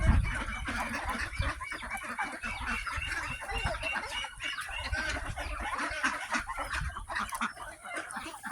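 Small ducklings feed outside at feeding time, a dense, continuous chatter of peeps and quacks from a nearby flock with scattered louder calls, no voices.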